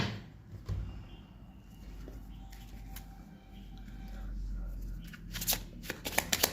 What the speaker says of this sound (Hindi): पहले मैं सारे कार्ड्स पुल आउट कर लेती हूँ